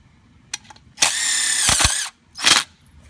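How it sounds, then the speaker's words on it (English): Power drill driving a self-tapping screw into a railing: a short tap, then a loud steady whirring drive of about a second, a brief pause and a final short burst, close and without talk. "Self-tapping screws. Install 1 screw at the top."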